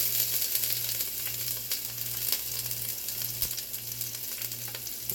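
Onions, peppers and garlic sizzle in a hot Dutch oven for slow-cooked chili, a steady close crackle and hiss with a low hum running underneath and a few brief clinks.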